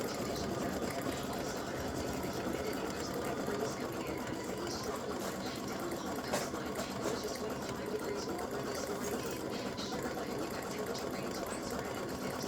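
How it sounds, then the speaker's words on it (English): An embroidery machine stitches a fill stitch on the belt pieces and buckle centre of a Santa legs and bow appliqué, a continuous rapid mechanical chatter with an even motor hum, close and steady the whole time. "I'm going to stitch the fill stitch. So it stitches these little parts of the belt and then the center of the buckle."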